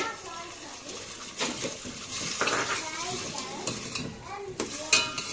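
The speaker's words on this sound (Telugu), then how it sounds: "సో ఈ బ్రింజాల్ వాటర్ కూడా నేను పోసేసుకుంటున్నాను, ఎందుకంటే సాల్ట్ వాటరే అది." Salted soaking water from cut brinjal is poured into a pot of Andhra-style sambar, a splashing, gurgling pour with a few clinks of the vessel, while a person talks over it.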